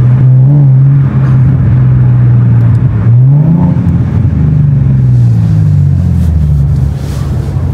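A loud Ford Mustang engine, illegally loud, roars and revs continuously close by, its pitch rising and falling with the throttle over a steady rumbling drone.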